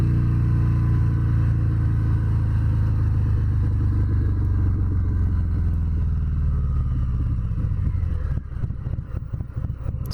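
A 2019 Harley-Davidson Fat Bob 114 motorcycle rides with a loud, deep engine rumble up close, holding steady before the revs drop and the note turns choppy near the end.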